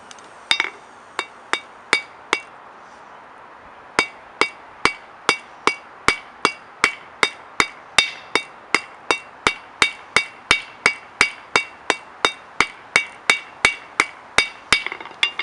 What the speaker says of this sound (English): I might do a couple hits just to make a little flat space so I can hit the cross peen